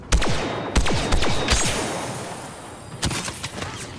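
Rapid gunfire from the Star Wars Battlefront 2 campaign, loud sharp shots in quick bursts with a brief pause midway, then another volley, no talk over it.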